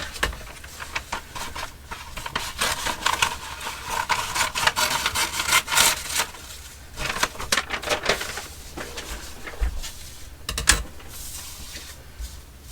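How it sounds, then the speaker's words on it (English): Newsprint paper being cut for a craft tag: close, continuous rasping and rubbing strokes, rising and falling in bursts for several seconds with a few brief pauses, without speech. "Going to cut some newsprint here."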